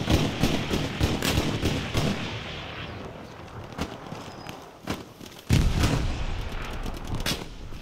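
Gunfire in the World War II shooter Hell Let Loose, with sharp shots from a sniper among scattered cracks, some distant and others close, plus a heavy loud report near the end over ongoing battle noise.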